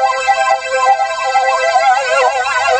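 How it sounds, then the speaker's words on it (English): A Casio CTK-series keyboard patch with a choppy phaser effect whose LFO speeds up, giving a steady sweeping, warbling tone that grows faster and more agitated toward the end. "So you can hear that sort of choppy phaser sound"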